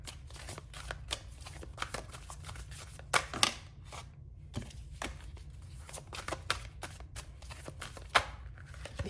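Tarot cards are shuffled continuously by hand, a close, soft stream of riffling and flicking with quick irregular bursts throughout.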